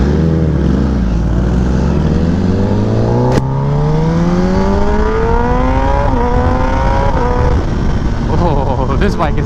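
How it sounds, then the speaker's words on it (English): A Kawasaki Ninja ZX-10R sport bike revs loud and close as the rider accelerates, engine pitch climbing steeply through the gears with brief shift dips, over steady wind rush. "Oh, this bike is fast."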